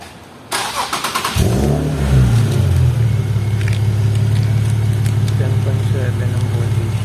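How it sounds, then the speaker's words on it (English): A 2020 Nissan 370Z cranks briefly and fires up, the engine flaring loudly before settling into a steady, close idle that runs on alone. "Start the car to ensure the battery is working properly."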